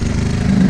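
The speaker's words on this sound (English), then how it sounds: "it's idling perfect, as you guys can see. It'll sit here and idle forever." An X15 super pocket bike engine idles in a steady, close, loud low putter with an even rapid firing rhythm and no talk.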